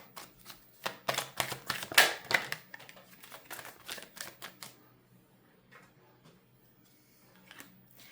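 Tarot cards shuffled and pulled from the deck, heard as close bursts of quick papery riffling and flicking snaps that thin out to scattered soft slides and taps, with no talk.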